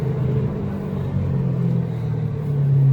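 A 2010 Ford Mustang GT500 with its supercharged engine runs with a loud, steady low rumble and a tonal drone that swells slightly toward the end, with no talking.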